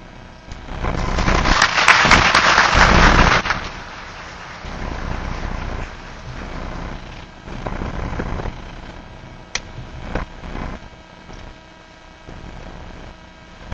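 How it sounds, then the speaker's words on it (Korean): Warm applause from a church congregation rises for a few seconds as the pastor comes forward in a Korean Methodist church, then gives way to softer room noise with scattered faint sounds. "먼저 뜨겁게 우리 박수하겠습니다."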